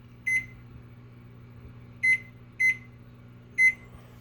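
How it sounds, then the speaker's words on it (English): An oven timer gives four short, crisp electronic beeps at uneven intervals while it is set to four hours for slow-cooking ribs at 250, over a steady low appliance hum. "I'll put the timer on 4 hours."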